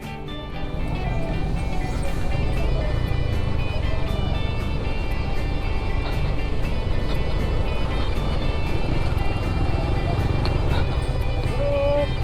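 A vehicle's engine drones steadily and loudly for the whole stretch, a constant close rumble with faint higher tones. It carries riders near the Bagsit River in Palauig, Zambales, and no voices are clearly heard over it.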